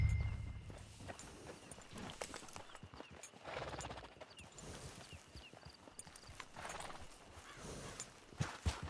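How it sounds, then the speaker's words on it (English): A horse's hooves clip-clop along in a video game western, steady hoofbeats with a whinny partway through, over quiet ambient game sound and no talking. "Get your horse."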